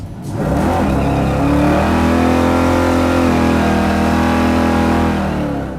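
A 1955 Chevy gasser with a Hemi engine drives a two-lane highway, its engine swelling into a loud, steady drone that holds and then eases off near the end.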